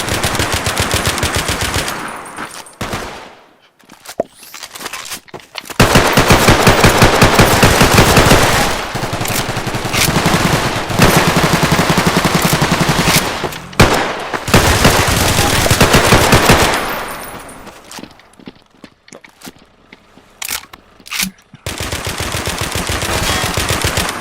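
Sustained machine-gun fire and bursts of gunshots in the video game Police Kobralost 3, loud and dense with a few short pauses, no talking.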